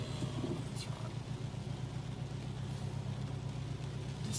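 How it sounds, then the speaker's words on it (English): A car engine runs with a steady, low, throbbing rumble that sounds like a Subaru WRX. The car sometimes does not run properly, and the engine holds an even drone for the whole stretch. "This thing sounds like a WRX at the moment."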